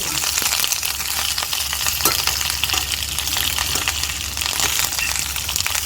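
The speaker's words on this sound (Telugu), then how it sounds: "కొంచెం ఆయిల్ వేసుకొని కరివేపాకుని పచ్చి వాసన పోయేదాకా వేయించుకోవాలండి" Curry leaves frying in oil with a loud, continuous, close sizzle and a dense hiss of fine crackles and spatters, steady throughout.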